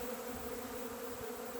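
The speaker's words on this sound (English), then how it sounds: "The bees are very gentle when foraging this, more gentle than they are foraging on open syrup." A dense swarm of honeybees feeding on dry pollen substitute gives a steady, loud buzzing hum that stays even and close throughout, with no pauses and no voices.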